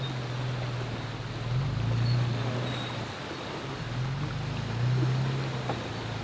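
A Zero Breeze Mark 2 portable air conditioner runs on battery power, making a steady airy fan whoosh over a low droning hum that swells gently and fades back.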